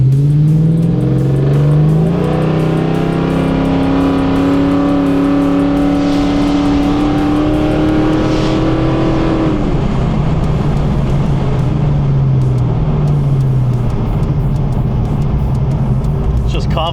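A 1968 Chevy Camaro engine revs hard under acceleration, its pitch climbing steadily then dropping and rising again as it pulls through a gear change; loud and close throughout, with faint talk in the background.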